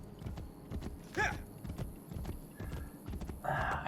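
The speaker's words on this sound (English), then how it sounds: "I do like riding our horse around" Steady clip-clop of horse hooves as a horse is ridden in Assassin's Creed Brotherhood, with a close rhythmic beat joined by two short whinnies, all under a continuous game background.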